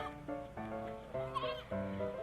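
A goat bleats in a storybook scene about a wolf and goat kids: a run of several wavering, nasal bleats, each starting sharply, close and clear with no talking over them.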